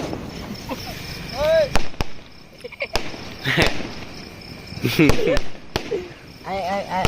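Diwali firecrackers crack sharply several times at irregular intervals, short bangs scattered among people talking nearby.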